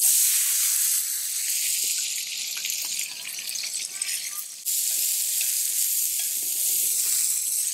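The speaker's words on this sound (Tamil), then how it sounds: "இப்போ நம்ம வெங்காயத்தை போட்டு நல்லா அதில் வறுத்துக்கலாம்" Onions frying in hot oil in a pan, a bright, loud hiss and crackle that runs the whole time with a brief dip midway, then a steady sizzle.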